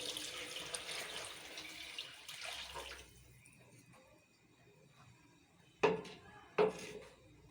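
Water poured from a glass into a pot for cooking basmati rice for chana pulao, a soft splashing flow for about three seconds, then quiet kitchen sounds and two sharp clinks.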